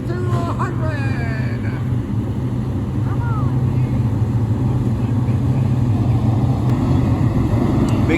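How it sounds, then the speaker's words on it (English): Race car engines at Orange County Fair Speedway during the Eastern States 200 weekend give a steady, loud, throbbing drone throughout, with a voice talking over the rumble. "Drivers, start your engine!"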